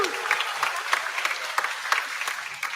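Audience applause following a joint performance at a music event, bright and near, with a few sharper claps punctuating the steady clapping for a couple of seconds.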